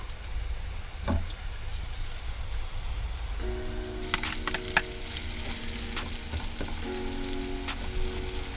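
Peppers and broccoli frying in a pan at a campsite, a steady soft sizzle with occasional clinks and stirring scrapes over it, fairly quiet and close, with no talking.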